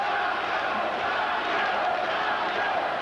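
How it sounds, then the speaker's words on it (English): A boxing crowd at a WBA cruiserweight title fight yells and chants for fighter Young Joe Louis, a dense, steady roar of many voices with no break. "You hear the crowd yelling, Young Joe, they love it."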